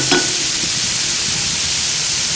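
Garlic and onion sizzling in a pan while being stirred for gandule rice, a loud, continuous close frying hiss with a brief utensil scrape at the start.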